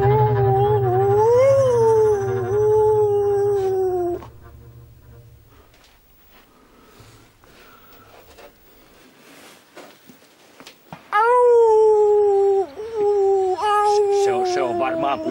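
Long, wavering howls from a dog shut in a manor cellar rise and fall, close and loud. A quiet stretch follows, then the howling starts again.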